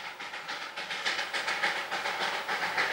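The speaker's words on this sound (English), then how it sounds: "the train whistles up the approach to Tindaria just after 12 noon" A narrow-gauge steam toy train on the Darjeeling line climbs the approach to Tindharia, its hissing, chuffing exhaust pulsing in a steady rhythm at moderate distance with no voices.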